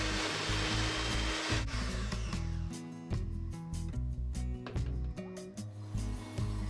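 An electric mixer whips homemade shea butter with glycerine, giving a loud continuous motor whir broken by uneven scraping and rattling as the beaters work through the thick mixture.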